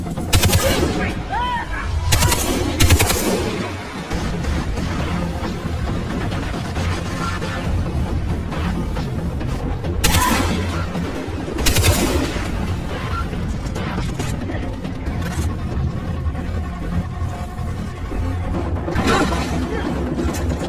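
Gunfire from the Far Cry 3 shooter game, with heavy bursts of shots and booming blasts recurring through the scene over a constant loud combat din, and a voice calling out now and then.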